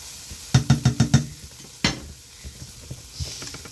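Green onion tops tossed into a hot frying pan: five quick metallic knocks of a utensil against the pan, a sharper clatter, then a faint, soft sizzle with light stirring noises.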